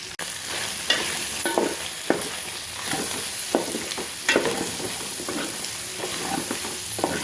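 Chicken pieces frying on low heat with chilli powder, giving a steady close sizzle broken by repeated scraping stir strokes, with no voices.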